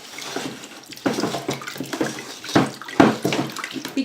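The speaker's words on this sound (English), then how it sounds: "so I can empty all the water out." Water sloshing and splashing irregularly as it is poured off a soaked paper clay mixture, with several sharper spatters and gurgles, close and fairly loud with no voices.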